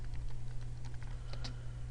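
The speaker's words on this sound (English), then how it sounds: "I'm going to type IP address" Keys clatter at a quick, uneven pace as an IP address is typed on a computer keyboard, heard close over a steady low hum with no talking.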